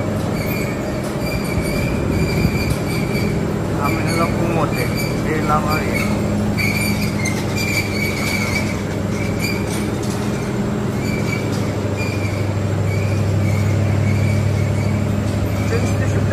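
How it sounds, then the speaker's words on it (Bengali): A passenger train runs from Cox's Bazar to Dhaka, its continuous rumble and wheel noise filling the cabin with occasional squeals, while a person talks over the steady din. "আমার হলো এই প্রথম ট্রেনের জার্নি কক্সবাজার থেকে"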